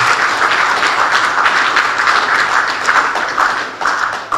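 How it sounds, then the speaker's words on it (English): Loud, sustained clapping from an audience at a governor's public address, a dense continuous patter of many hands with a few sharper taps standing out near the end. "I think we deserve a higher clap than this."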